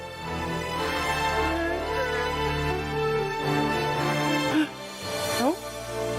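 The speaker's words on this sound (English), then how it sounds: "Beautiful music." Video game music from Final Fantasy Tactics plays steadily and fairly loud, with sustained layered tones throughout and a few quick sliding pitches near the end, heard alone without talk.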